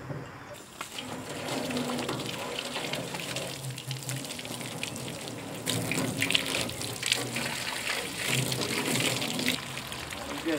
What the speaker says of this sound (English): Give it a quick rinse off.